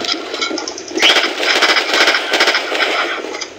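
Rapid bursts of automatic gunfire in the video game Battlefield 2, loud and close, rattling in dense volleys with brief gaps between them.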